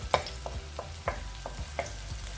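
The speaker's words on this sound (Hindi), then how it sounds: "इसको हल्का सा हम बस फ्राई करेंगे" Garlic and pastrami lightly frying in a pan for pastrami pasta, a low steady sizzle broken by several quick stirring scrapes, close and without talk.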